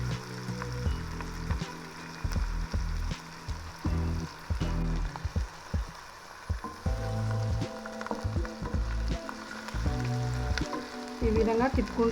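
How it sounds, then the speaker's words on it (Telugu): Sliced onions and green chilies fry in a pan for chicken fry piece biryani, giving a soft sizzle under intermittent stirring and scraping, with a low humming background throughout. "ఈ విధంగా తిప్పుకుంటూ వేపుకుందామండి. మనము ఉల్లిపాయలు ఎర్రగా వచ్చేదాకా వేపుకోవాలి."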